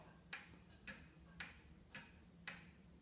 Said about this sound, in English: this magnificent Black Forest carved Cuckoo and Quail clock